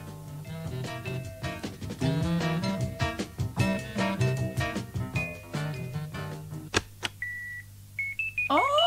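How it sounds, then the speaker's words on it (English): An alarm beeps in a short run of steady electronic tones near the end, after a stretch of busy, dense clattering sound. "No, Mary, that's my alarm reminding me to put the play on."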